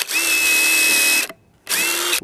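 A power drill pre-drilling holes in wood for a raised garden bed whines steadily for over a second, stops briefly, then spins up again for another short burst, loud and close.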